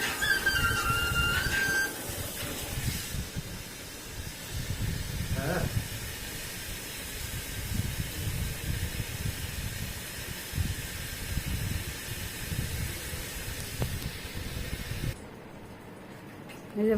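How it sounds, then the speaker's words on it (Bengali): Water gushing hard from a water filter under repair, a loud steady rushing hiss that drops away near the end, with faint voices in the background. "জোরে জোরে জল পড়ছে"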